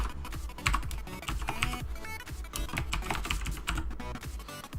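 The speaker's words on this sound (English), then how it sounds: "So you type your text, obviously." Rapid, steady clatter of keys on a computer keyboard, close and fairly loud, with uneven bursts of keystrokes running through the whole stretch and no talking.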